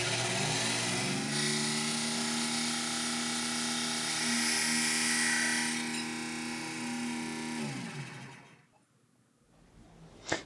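A machine spindle cuts through a brass cartridge casing with a loud, steady, tonal whine for about eight seconds, then spins down into quiet, ending with a brief sharp clack.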